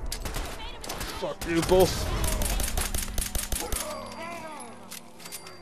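A weapon in Fallout 4 fires at super mutants, with a cluster of rapid sharp shots and clattering impacts in the middle. Someone talks over the start of the burst.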